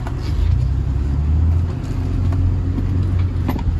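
A Toyota Land Cruiser 90 with a 3.4 engine drives slowly in reverse. The steady low engine rumble is close and fairly even, with a faint road noise under it.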